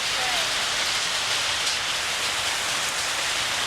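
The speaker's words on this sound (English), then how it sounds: "it's hailing outside" Hail falling outside during a storm, a steady dense broadband hiss of pelting ice like heavy rain, continuous and fairly loud throughout with no distinct pauses.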